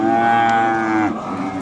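A red cow at a busy cattle market lets out one loud, close, drawn-out moo that holds steady before trailing off, with no talk over it.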